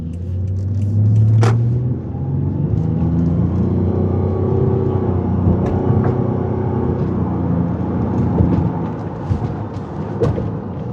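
A 2015 Lexus RX 450h hybrid runs on its gas engine, giving a steady low rumble from inside the cabin with engine drone and faint road noise, and a brief swell early on.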